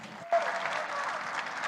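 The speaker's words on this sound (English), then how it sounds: "A round of applause." Audience applause at a festival program presentation, a sudden burst of clapping that swells and holds steady and fairly loud after a brief pause.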